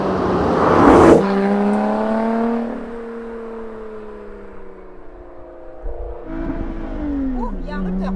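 A Lotus Exige Sport 410 engine heard from inside the cabin, a loud rev climbing hard, then holding at the rev limiter and easing back down in steady harmonic tones, with a voice speaking over it.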